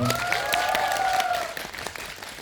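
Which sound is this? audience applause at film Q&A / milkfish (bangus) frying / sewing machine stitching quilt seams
audience applause at film Q&A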